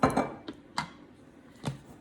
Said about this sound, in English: so now I'm going to put my lid on my blender.